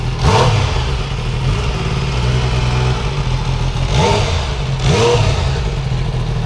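Close-up of an MV Agusta F3 Oro's 675cc three-cylinder motorcycle engine idling loudly, then blipped several times in quick revs before settling back to a rumbling idle.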